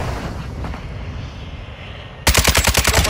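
Video game machine-gun fire breaks out suddenly and loudly after a stretch of low rumbling ambience, a rapid burst of close, evenly spaced shots that keeps going to the end.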